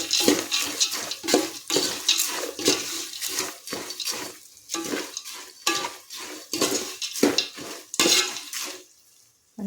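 Chilli powder stirred into food in a pan during festival cooking, heard as busy, repeated scraping and clattering of a utensil against the pan, close and continuous with brief pauses.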